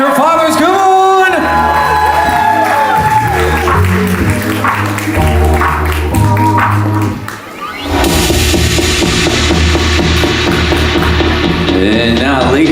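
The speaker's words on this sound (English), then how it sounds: "a huge round of applause for our bride and her fathers" Wedding reception guests applauding and cheering for the bride over loud music, with whoops and crowd shouting mixed into a dense, steady roar that dips briefly midway.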